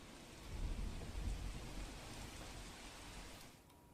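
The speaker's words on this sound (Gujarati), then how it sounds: "વલસાડ શહેરમાં મોડી રાત્રે ધોધમાર વરસાદ ખાબકતા ઠેર ઠેર પાણી પણ ભરાઈ ગયા છે" Heavy rain pours down late at night over Valsad city in Gujarat, a dense, steady hiss with low rumbling swells. The downpour sounds distant to moderate and continues alone, then thins abruptly at the end.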